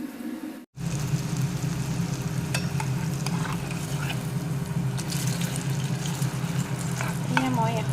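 Tel pitha (ghila pitha) is deep-frying one piece at a time in hot refined oil. After a brief silent break at the start, a dense, continuous sizzle and bubbling carries on, with a few faint clinks.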